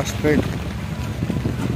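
Wind and rain gusting over a churning river during a cyclone, a steady loud rushing roar with a voice speaking briefly over it.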